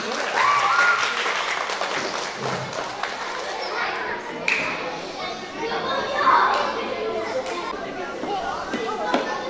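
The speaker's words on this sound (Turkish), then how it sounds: "Arkadaşlarımızı alkışlayın." An audience at a Turkish primary school graduation ceremony applauds the students steadily throughout, a dense crowd clap with children's chatter and a voice over a loudspeaker announcing names above it.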